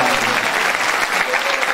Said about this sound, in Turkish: Emin amcayı huzurlarınızda bir daha bir alkış alalım.